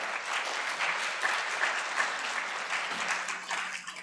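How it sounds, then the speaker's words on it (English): Audience applause for guests at an evening talk on the farm bill, a sustained, even patter of many clapping hands heard from a moderate distance, fairly soft and with no speech over it. "I want to have a big round of applause for our guests tonight"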